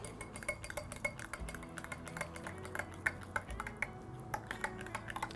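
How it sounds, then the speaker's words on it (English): A spoon stirs starch-based thickener into water in a glass, giving a steady run of quick, light clinks and taps close by for several seconds, with no voices. "Stir until it's well combined."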